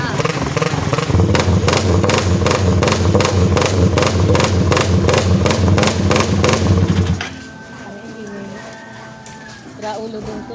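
A motorcycle engine revs loud and close at a car and motor show in Alegria, a rough, pulsing rumble for about seven seconds, then drops away, leaving quieter background noise.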